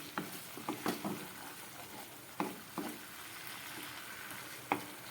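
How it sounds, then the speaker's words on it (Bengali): Cabbage kofta gravy with cashews, raisins and yogurt is sautéed and stirred in a pan: a soft background sizzle broken by several sharp spoon scrapes and clacks at irregular intervals, close but fairly quiet. "এটাকে আবার খানিকক্ষণ কষিয়ে নেব"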